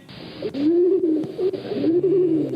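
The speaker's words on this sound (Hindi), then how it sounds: "कबूतर है।" A pigeon coos in soft, rolling, low-pitched phrases, close and fairly loud, repeating across a couple of seconds with a second deeper coo joining near the end.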